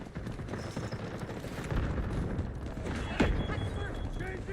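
Artillery barrage explosions in the video game Delta Force: a dense, continuous rumble of blasts and gunfire with a sharper, louder impact near the end, heard through steady battlefield noise.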